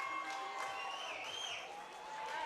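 Football fans of the Titans cheering after a fumble recovery in a bowl game, a distant, steady crowd roar with faint applause, heard from afar.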